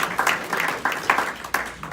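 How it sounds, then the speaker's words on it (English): Audience at a campaign speech by a Democratic candidate for Arizona governor bursts into repeated rounds of clapping, several swelling waves of applause across a crowd, moderately loud. "you should clap for the young people that are making this an issue"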